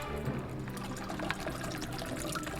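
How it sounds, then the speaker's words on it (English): A shaken cocktail made with lemon juice is poured from the shaker into a glass, giving a steady, close liquid pour with a light trickling texture that runs the whole time with no voices. "and let's pour it in."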